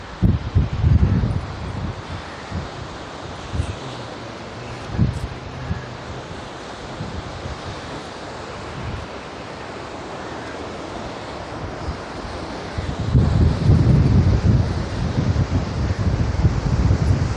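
Sea waves and gusting wind at RK Beach during the rainy season, with the water level risen high: a continuous broad roar of surf and wind buffeting, swelling louder in bursts near the start and again toward the end, with no voices.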